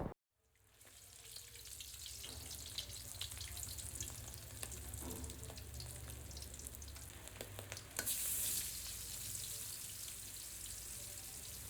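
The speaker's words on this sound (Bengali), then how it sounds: "আর এইদিকে হচ্ছে মাছটা ভেজে নেব।" Fish sizzling in hot oil in a pan, a dense steady crackle and spatter that runs the whole time after a brief quiet start, close and fairly loud with no talking.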